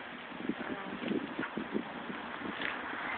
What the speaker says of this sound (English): It's a beautiful day, and it's a little breezy.